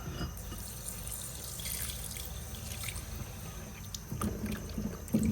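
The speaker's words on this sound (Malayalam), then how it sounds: "പക്ഷെ അതിനുമുമ്പ് നമുക്കിതൊരു 3-4 വട്ടം കൂടെ കഴുകാം." Meat is washed under a running kitchen tap, with a steady close stream of water splashing into the sink and a few louder splashes near the end.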